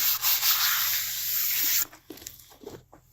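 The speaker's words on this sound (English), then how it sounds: "So I have polished this with my 50 grit and very happy with it." A rock sink being polished with a 50 grit pad, heard as a loud, steady, close abrasive rubbing hiss that cuts off abruptly, leaving faint scrapes and small knocks.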